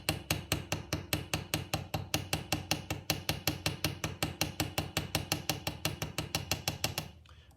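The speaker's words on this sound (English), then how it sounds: "I'm going to rivet this side." A hammer sets a rivet with a long, even run of sharp metallic blows, roughly five per second, close and clear, stopping abruptly at the end.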